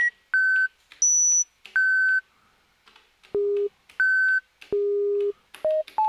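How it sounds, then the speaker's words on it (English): Elektron Analog Four synthesizer playing a pure sine wave in short, clean, separated notes that jump between several pitches, some high and some low, each note starting and stopping abruptly with silence between them. "this produces a sine wave which you cannot get on the oscillator 1 and 2"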